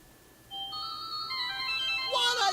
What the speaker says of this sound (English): I could give the residents a little taste of the future with one of the ringtones.